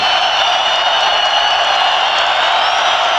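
Steady, loud roar of a stadium crowd at a 1992 Dallas Cowboys at Philadelphia Eagles NFL football game, a dense continuous wash of cheering with no breaks.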